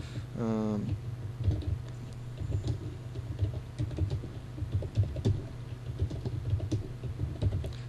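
PHP code typed on a computer keyboard, a run of quick uneven key clicks close by, preceded by a short rising tonal chirp at the start.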